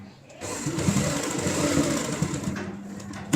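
A sewing machine stitches a tote bag in one continuous run of rapid, even mechanical chatter lasting about three seconds, close by and fairly loud, starting and stopping abruptly.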